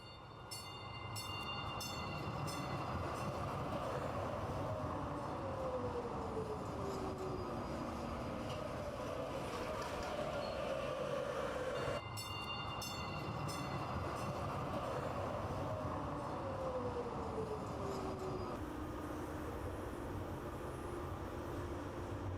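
A train rumbles along steadily with a continuous low roar and faint rhythmic clatter, interrupted midway by a brief jolt, with occasional squealing tones.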